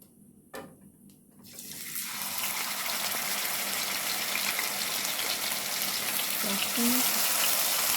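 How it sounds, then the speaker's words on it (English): After a quiet start and a brief clatter, a snapper fish fillet hits a hot frying pan and sets off a loud, continuous sizzle that holds steady throughout. "Now I'm gonna add my fish."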